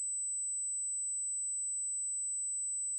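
A computer running Planet Zoo gives off a continuous high-pitched electronic whine or beep tone, steady and unbroken, with faint pulsing and no talk.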